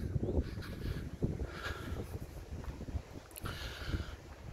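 Breezy wind buffeting an outdoor microphone beside the Kingstone at the Nine Ladies stone circle, a continuous low rumble with gusty surges.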